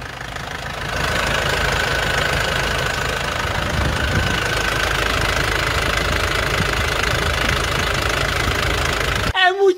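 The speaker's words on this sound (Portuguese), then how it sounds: "estou fazendo o exame de como está o andamento do motor, moçada" Nissan Xterra pickup engine idling with the hood open, a steady close mechanical rumble with a fine ticking knock running continuously, ending in a brief burst of louder noise.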